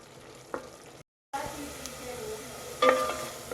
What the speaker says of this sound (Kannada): ಇದು ಈರುಳ್ಳಿ ಬ್ರೌನ್ ಆಗಬೇಕು ನಮಗೆ, ಅಲ್ಲಿವರೆಗೂ ಸ್ವಲ್ಪ ಫ್ರೈ ಮಾಡ್ಕೋಬೇಕು ಚೆನ್ನಾಗಿ